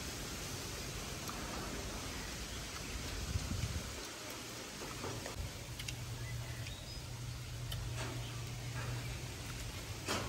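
Light rain falling in the countryside, a steady soft hiss of drops with faint ticks, continuous throughout, with a low hum entering midway and quiet voices now and then.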